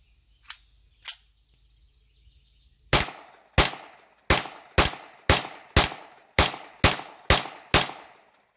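A Mitchell Arms Trophy II pistol fires at an outdoor range. Two distant shots are followed after a pause by nine loud, sharp reports in a steady rhythm, each cracking and decaying briefly, with no talking.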